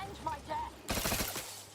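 Shock rifle fire in The Outer Worlds 2, a sudden loud burst of crackling shots after a brief stretch of voice, sustained for under a second before trailing off.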